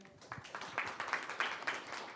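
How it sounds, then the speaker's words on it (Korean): A conference audience claps for a food-tech presenter from The Born Korea at a startup event. The applause is quiet and loosely rhythmic, with a few louder clap bursts at a moderate distance. "여러분 박수 보내주십시오"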